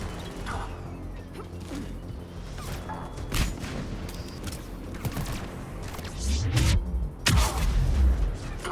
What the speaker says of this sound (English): We're shooting stuff. I don't know how good we're doing, but we're shooting stuff.